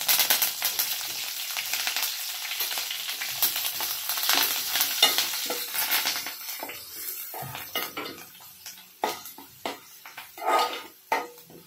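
Crushed garlic and curry leaves sizzle in hot oil with cumin seeds, a steady frying hiss over clattering stirring of a spoon against the pan, loud at first and easing into intermittent scrapes.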